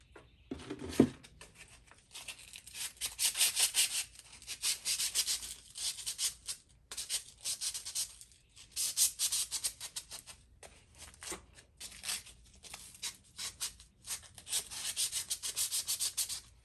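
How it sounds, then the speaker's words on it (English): Sandpaper rubs over a part of a 1955 Westinghouse fan in repeated close strokes, quick rasping bursts coming in rhythmic groups separated by short pauses. "I can just clean it up with some sandpaper"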